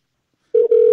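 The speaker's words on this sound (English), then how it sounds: "And it's ringing." An outgoing telephone call rings through loudly as a steady electronic tone on the line, starting after a short silence and holding with a single brief break.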